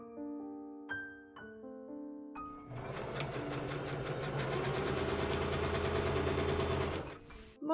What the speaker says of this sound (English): I add machine gathering stitches to the tops of the inner sleeve lining.